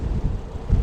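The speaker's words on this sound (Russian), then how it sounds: "сильный ветер сдувает" Strong wind buffets a car driving along a highway near Rostov among open fields, a low rumbling roar with gusts swelling toward the end of a brief moment.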